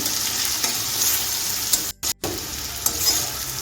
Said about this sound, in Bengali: গ্যাসটা মিডিয়ামে রেখে আমি অনবরত নেড়ে তেড়ে উচ্ছেটাকে ভেজে নিচ্ছি